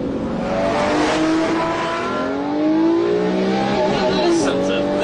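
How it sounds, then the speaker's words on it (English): A Lamborghini Murcielago LP640 engine revs up in rising and falling sweeps as the throttle is blipped, its pitch climbing and dropping sharply, loud and close with no talking. "Just for that noise when you blip the throttle."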